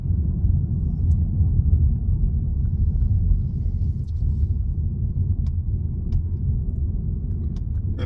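A car heading downhill in low gear with engine braking, heard as a steady, close low rumble of engine and road noise that holds evenly throughout, with a few faint clicks over it.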